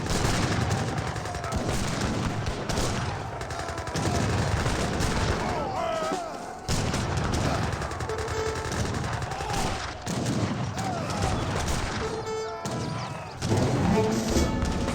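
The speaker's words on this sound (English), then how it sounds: "Gatling guns trying to set on up. Got a good number of sharpshooters there." Dense battle gunfire from Gatling guns and sharpshooters in Age of Empires 3, a constant loud crackle of rapid shots and thuds lasting throughout, with a commentator's voice talking over it.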